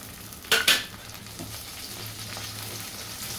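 Onions and ginger frying in a pan, with two sharp bursts of sizzle early on as food is stirred, settling into a steady, soft frying hiss.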